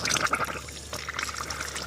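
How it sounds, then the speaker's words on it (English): Water sprays and splashes steadily from a leaking water line that has just been turned on, a continuous close hiss and trickle with no talking. "you can see the water is not coming out right here. It's coming out to the side"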